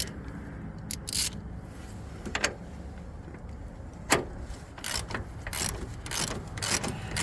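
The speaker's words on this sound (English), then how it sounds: "So I'm gonna have to do this by hand. So just take my socket, put it on there, make sure I'm going the right way." A socket ratchet tightens a shock bolt by hand on a 2012 Chevy 3500HD front shock replacement, giving scattered quiet clicks and short bursts of ratcheting at close range, with no talk.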